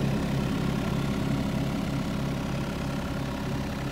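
A mini excavator's engine drones at idle, a steady, dense mechanical rumble that holds at the same loudness throughout with no voices or breaks.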